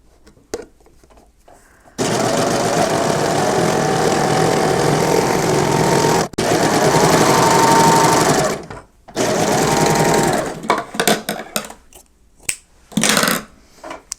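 A Baby Lock sewing machine runs a wave stitch with the needle in the 01 position, buzzing loudly and steadily in two long runs and then in shorter stop-start bursts, close up with no talk over it.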